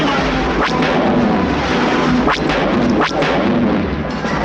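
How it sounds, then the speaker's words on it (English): War machine cannons roar in a loud, continuous barrage of booming blasts with a few sharper bursts, a battle sound effect from a Star Wars story record. "Deadly cannons roar as they march toward the base, crushing everything in their path."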